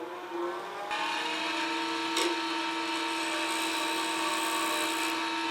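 Negative rake woodturning tool cutting resin on a lathe, a steady whirring hum with a scraping edge that holds evenly throughout after a brief softer start, close and alone.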